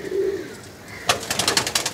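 Pigeons in a loft shed coo softly and close, a low drawn-out call followed by a brief burst of rapid flapping or fluttering from the birds.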